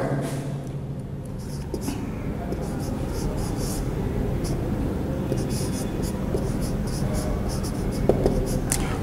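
Chalk or marker scratches across a classroom board in quick, uneven bursts of strokes, set against a steady background hum with faint voices.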